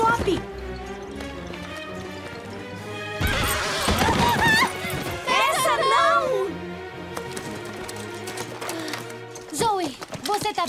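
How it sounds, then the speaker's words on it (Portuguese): A cartoon horse gallops with rhythmic hoofbeats and loud whinnies, set against background music, while voices speak over it. "Ela tá galopando! Ela sabe que deve ir a meio galope!"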